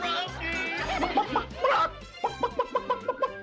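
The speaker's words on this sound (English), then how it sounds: "It was only a chicken!" A cartoon chicken clucks in a spooky night scene, with loud rhythmic clucks ending in a quick series of short bursts, mixed with voices and laughter.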